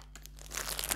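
Plastic shopping bag crinkling while groceries are unpacked, a close, steady rustle that grows a little louder toward the end, with no talking.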